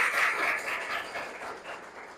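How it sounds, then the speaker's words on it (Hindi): Audience at an indoor talk by a police officer applauding, a dense patter of clapping hands that fades gradually over a couple of seconds. "इसके लिए बहुत शानदार तालियां हो जानी चाहिए।"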